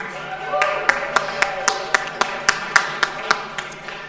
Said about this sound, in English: Let's give a round of applause for Magnus